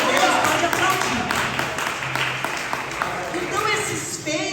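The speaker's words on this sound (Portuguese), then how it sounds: "Então, pode aplaudir para Deus, pode aplaudir." Congregation in a church service applauding together, a dense sustained clapping with a voice speaking over it.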